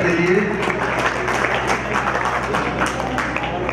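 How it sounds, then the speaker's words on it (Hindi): Applause from the audience at a mushaira in Bijnor, a dense wash of clapping that fills the moment, with a voice carrying over it. "तालियां हो जाए सभी के लिए।"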